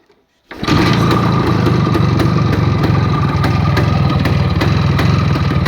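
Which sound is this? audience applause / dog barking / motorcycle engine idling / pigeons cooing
motorcycle engine idling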